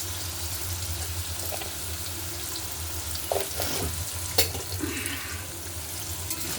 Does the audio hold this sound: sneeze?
no